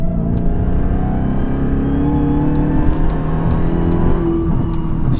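A car on snow tires accelerating hard, a loud sustained engine roar with rising tones heard from inside, continuous and close.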